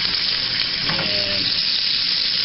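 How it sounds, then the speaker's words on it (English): Dove jalapeno poppers fry in a pan with a steady, close hiss and crackle of hot oil, and a voice briefly says a word over it. "we will let these sizzle here for another minute or so"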